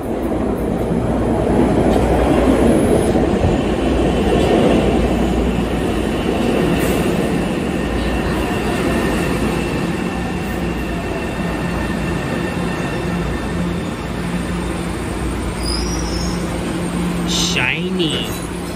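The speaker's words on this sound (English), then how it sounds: "Oh, that's a train." A Boston Orange Line subway train arrives at the Downtown Crossing platform with a steady, loud rumble of wheels and carriages. A high screech sounds near the end, and people talk over the noise.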